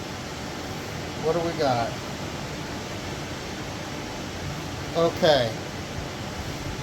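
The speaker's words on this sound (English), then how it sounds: "It's just 500 degrees in here. I have to have the fans on." Electric fans blowing in a sweltering kitchen make a steady, even whoosh of broadband noise throughout, with a voice speaking briefly twice over it.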